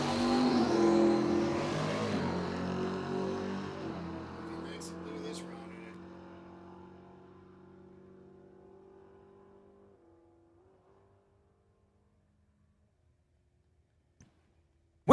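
An El Camino and a Camaro make a drag race run, engines roaring loud at the start and then fading steadily into the distance until near silence, with a faint click near the end.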